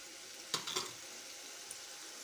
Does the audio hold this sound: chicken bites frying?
yes